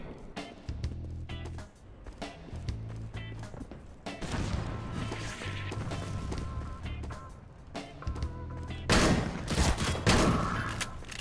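Shotgun blasts and heavy punches in the video game Swelter, a chaotic run of sharp gunfire bursts and smacking impacts, with a louder cluster of shots near the end.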